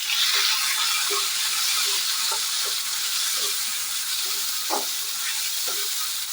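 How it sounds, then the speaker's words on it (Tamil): Tomato and pirandai (adamant creeper) sautéing in a pan for a tamarind curry, giving a steady, continuous sizzle and hiss with occasional faint stirring taps, heard alone without voices. "நல்லா வதங்கட்டுது."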